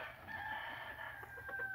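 Small Japanese bantam chickens in a coop making soft drawn-out clucking calls, faint and somewhat distant over steady background noise.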